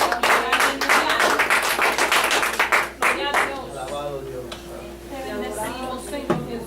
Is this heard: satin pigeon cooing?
no